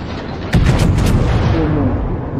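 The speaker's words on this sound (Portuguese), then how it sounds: "meus canhões não são rápidos, eu tenho que esperar eles carregarem" A heavy naval cannon boom from the battleship King George V in World of Warships bursts in after a quiet moment, followed by a rumbling, crackling tail that lingers under steady background noise.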